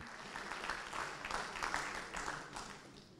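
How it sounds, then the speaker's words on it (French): Faint, steady applause from a ceremony audience honouring the trophy at the 2018 African Handball Championship awards, a dense continuous patter of many hands with no voices over it. "On peut encore applaudir, c'est la star quand même"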